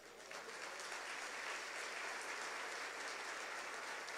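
A church congregation breaks into sustained, dense applause during a worship service, a steady wash of many hands clapping together with no pauses throughout.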